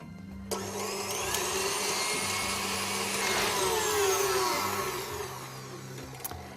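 An electric mixer beats lilac-tinted cake lace mixture in a bowl, a loud steady motor whine that switches on abruptly and runs continuously, with no talking.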